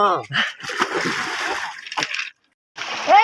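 Ice-cold water splashing and sloshing at an outdoor spot, broken by short bursts of nearby voices and gasps, a brief silence, then more splashing with talk.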